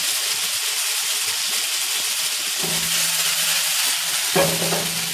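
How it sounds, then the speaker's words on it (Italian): Radicchio fries in a very hot pan with oil, giving a loud, steady sizzle and hiss, with a brief low hum breaking through twice. "Lo sentite come frigge? Perché la padella è rovente."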